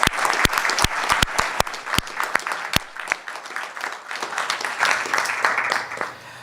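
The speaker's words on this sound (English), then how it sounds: "he deserves an enormous round of applause from all of us" A conference audience at a genocide conference gives a round of applause, with loud individual claps up front that thicken into sustained crowd clapping before slowly tapering.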